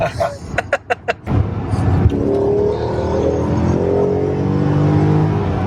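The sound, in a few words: 2003 BMW E39 M5 engine and exhaust accelerating hard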